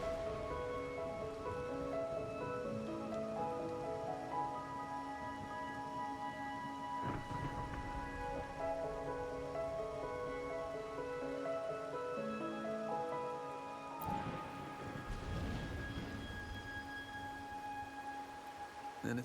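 A steady wash of rain with rolling thunder in the Wuthering Waves video game, the downpour continuous throughout while deep thunder rumbles swell twice, with a gentle musical score playing softly underneath.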